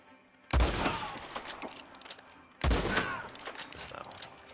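Two loud gunshots ring out in Red Dead Online, each a sharp near crack followed by a rolling echo, spaced about two seconds apart, against a faint ambient background.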